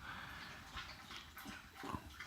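Dog making short, sharp vocal bursts at irregular intervals, a few close yips or barks over a low background murmur.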